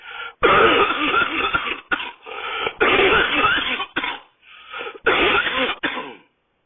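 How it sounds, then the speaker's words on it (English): A harsh fit of repeated coughing, loud and close, broken into several hacking bursts with brief gasps between them. "takes a hit and starts coughing"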